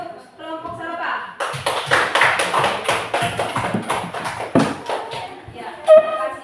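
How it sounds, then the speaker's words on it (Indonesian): A classroom applauds a student group, a burst of many hands clapping close by after a short spoken introduction, then tapering as a voice returns. "Silakan tepuk tangannya untuk kelompok Saroba."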